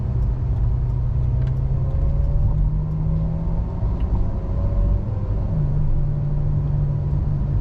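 A 2014 Ferrari F12 Berlinetta pulls away in second gear: a steady, loud engine rumble heard from inside for several seconds, its pitch stepping up near the end, with nobody speaking.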